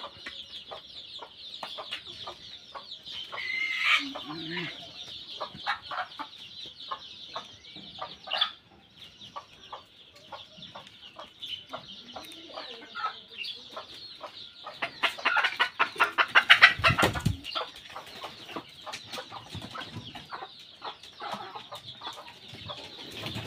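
A flock of native village chickens clucks steadily, overlapping calls from several hens close by, rising to a louder cluster of squawks toward the end.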